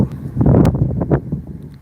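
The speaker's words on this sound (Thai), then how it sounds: "ลมเริ่มมาแรง" Strong wind buffeting an outdoor microphone, uneven rushing gusts that swell and fade, loud and close, with some rustling and no talking.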